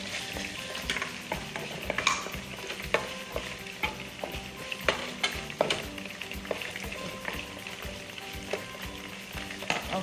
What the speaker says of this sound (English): now I'm adding my onion. Okay, and my tomatoes.